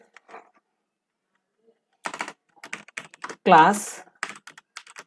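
Someone types code on a computer keyboard in short bursts of clicking keys, close and clear, with a brief spoken word partway through.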